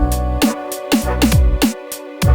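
A fat, punchy snare drum sample from a sample pack strikes about eight times in an uneven pattern, each crack loud and close with a short, quickly decaying body.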